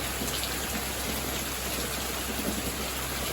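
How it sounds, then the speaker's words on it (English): Rain falling steadily in a Bali beach town during the off season, a continuous soft hiss of drops close by with no voices. "It's raining"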